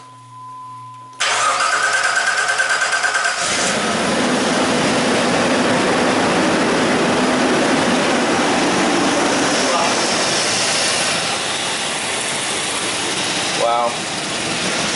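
Jeep Liberty engine cranking, then catching and running with a misfire: a brief starter whir gives way to a loud, rough, uneven close-up engine roar that holds steady to the end, with people talking briefly.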